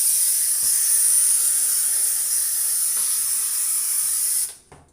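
A loud, steady steam hiss from an espresso machine wand runs continuously, then cuts off abruptly near the end, leaving quiet.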